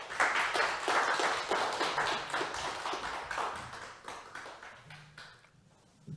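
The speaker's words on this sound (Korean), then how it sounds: "박수가 좀 약한 것 같아요" An audience claps after a lecture on peace and reunification, with moderately strong, close applause that gradually thins and fades toward the end before a brief renewed burst.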